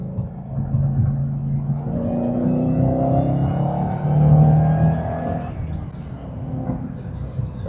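A 2014 Ford Mustang GT500 pulls hard down a straightaway, its engine rumbling as rising supercharger whine climbs with the revs, then eases off.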